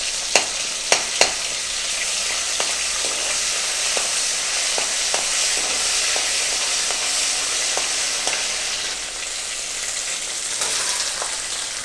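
Cinnamon, clove, ginger and garlic frying in hot oil give a steady, close sizzling hiss for about twelve seconds, with a few sharp pops and crackles near the start and scattered lighter spits throughout.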